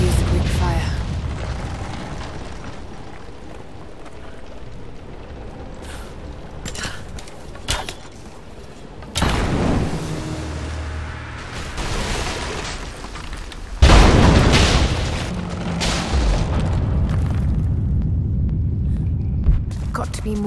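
Greek fire vessel exploding in Rise of the Tomb Raider, a sudden loud boom around the middle of a noisy game scene, followed by sustained rumbling and crackling debris over continuous background effects.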